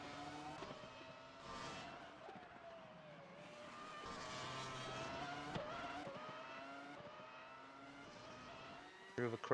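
IndyCar race car leaving the pits and running the Circuit of the Americas track during qualifying, a continuous loud engine drone with shifting pitch through the lap, a commentator talking over it.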